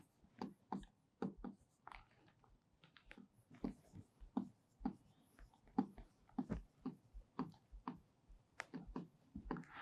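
A marker or chalk writing on a board, tapping and scratching in short irregular strokes that repeat steadily with a soft, close sound and no voice over it.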